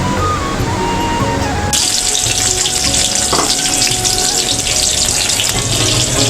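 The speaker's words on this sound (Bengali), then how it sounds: "গাইস, আমি তেলের মধ্যে পেঁয়াজটা ঢেলে দিলাম।" Chopped onion hits hot oil with a sudden loud burst of sizzling that fills the pan and holds steady and intense, a bright crackling hiss continuing to the end after a quieter start.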